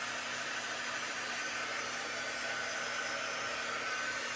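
A quick dry heat tool blows steadily to dry a chalk paste transfer on a wood craft piece, a continuous loud airy whoosh with a motor whine, unchanging throughout with no talk.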